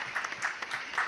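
Brief, fairly soft applause from a school debate audience, a scattered patter of clapping hands lasting about a second.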